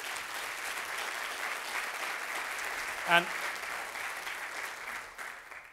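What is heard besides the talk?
audience applause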